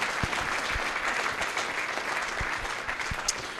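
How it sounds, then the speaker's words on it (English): A crowd at a junior football league awards night applauds the runners-up, a full, steady burst of clapping with a few sharper thumps scattered through it, close and fairly loud. "Ladies and gentlemen, please give a warm round of applause for Lachlan Ailiff and our runners-up."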